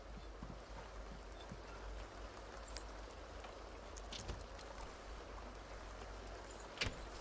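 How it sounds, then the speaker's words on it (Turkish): Steady rain falling in The Sims 2 life-simulation game, a continuous soft hiss with scattered drop ticks and a low rumble underneath, even throughout with no voices. "Yağmur asla dinmiyordu."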